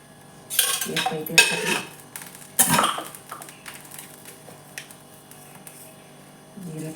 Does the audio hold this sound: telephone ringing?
no